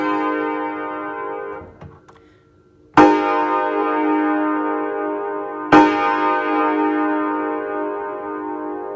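A piano plays the Nathan AirChime 5-chime horn chord combination, with two loud sustained chords struck in succession, each ringing out and decaying slowly, preceded by a softer fading chord.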